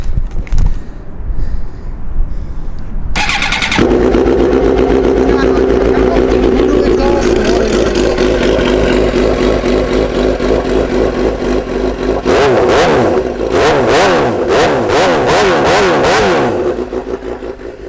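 A 2009 Suzuki GSX-R 750 sport motorcycle with about 39,764 miles fires up immediately after a short crank, then settles into a loud, raspy idle with a very loud exhaust, followed by a series of sharp, repeated throttle blips close by.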